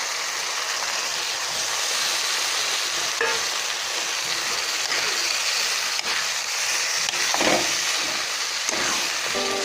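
Prawns frying in a pan for Bengali chingri malaikari, a loud steady sizzle and hiss throughout with occasional stirring scrapes, no talk.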